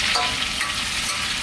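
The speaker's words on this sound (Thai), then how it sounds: "โอเคเราจะทอดกุ้งประมาณนี้นะครับเพื่อให้เนื้อกุ้งเขามีความหวานความเด้ง" Large prawns deep-frying in hot oil for a Thai salt-and-chili prawn dish, giving a steady, dense sizzle and bubbling that runs close and unbroken throughout, with no voices.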